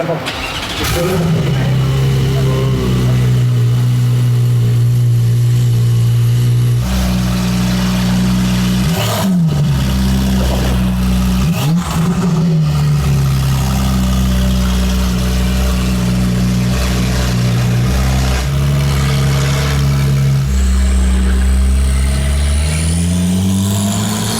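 A BMW car engine revs repeatedly, rising and falling in loud close bursts with idle stretches between, while people talk over and between the revs.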